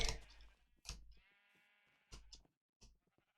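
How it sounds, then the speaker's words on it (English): Several short sheep bleats in quick succession in Minecraft, one longer drawn-out bleat in the middle, close and fairly loud with gaps of silence. "Let's move away from the sheep because they're a little bit noisy."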